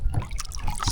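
A released spotted bass splashes back into the lake in one short, close burst of churning water.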